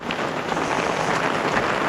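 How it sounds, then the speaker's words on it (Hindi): Heavy rain pours outdoors on a village road, a dense, steady hiss with some wind buffeting on the microphone, with no voices. "अभी और भी तेज़ बारिश शुरू हो चुकी है"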